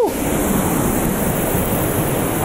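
A large waterfall in Russia in winter gives a steady, dense roar of falling water, loud and unbroken from start to finish.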